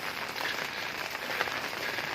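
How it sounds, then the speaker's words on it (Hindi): Rain falls in a mountain village along the Gangotri to Kedarnath trek in Uttarakhand, a steady, dense hiss of drops on surfaces nearby that holds even throughout. "बारिश हो रही है"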